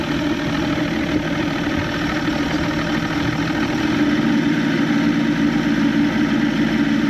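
A boat's Evinrude 150XP outboard motor on a McKee Craft boat idles out of a marina with a steady, even drone that holds constant throughout, with no voices.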